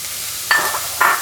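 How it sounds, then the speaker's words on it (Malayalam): Shallots with green chilli, garlic and curry leaves are sautéed in a pan: two quick stirring scrapes over a soft, steady sizzle, close and clear, with no speech. "എന്നിട്ട് ഇതൊന്ന് ചെറുതായിട്ട് വഴറ്റണം."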